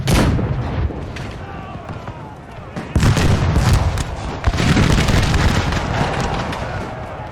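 Artillery booms and rolling gunfire fill a Napoleonic-era battle in a video game, loud and continuous, with heavy blasts near three and four and a half seconds and dense crackling volleys between.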